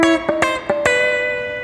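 Country chicken-picking on an electric guitar: a few sharp, snappy plucked notes in a quick uneven burst over a sustained ringing chord, close and clear with no talking.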